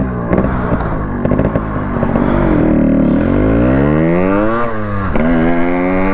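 A Yamaha RX 135 two-stroke motorcycle, converted from an RX 100 with a four-speed gearbox, revs loudly and close up, its pitch climbing and falling through several throttle blips over a steady running engine, with no talk.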